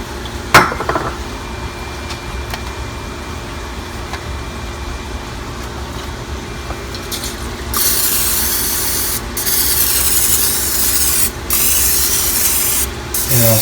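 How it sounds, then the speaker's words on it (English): Butter-flavored cooking spray hisses out of a can onto food before grilling, with several bursts of bright airy spray after quieter handling and clinks at the start. "I spray pan them so they don't stick to the grill."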